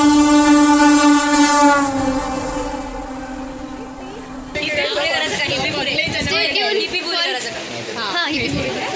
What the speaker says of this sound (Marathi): ये देखो गाइस ये ट्रेन देखो गाइस